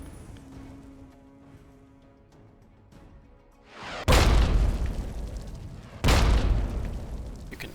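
Two heavy booming explosions in Fallout 3 burst out close and loud, each followed by a long rumbling decay, after a quieter stretch of faint game ambience.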